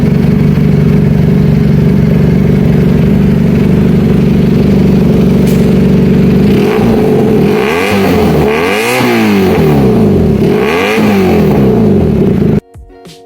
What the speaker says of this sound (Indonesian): Ini dia guys, Benelli TNT 249S, motor 2 silinder rasa 4 silinder.